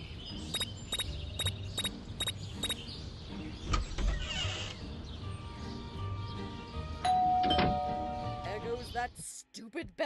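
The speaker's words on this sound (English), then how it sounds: "Stupid bell again." Doorbell ringing in the video game Scary Teacher 3D, a rapid run of about seven bright chimes at the start, followed by thumps, creaks and mechanical clatter with voices talking throughout.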